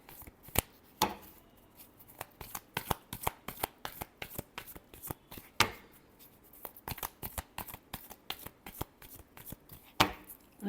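Tarot cards shuffle in close, crisp riffles and slaps, a quick irregular series of sharp papery snaps at moderate volume with brief pauses between bursts.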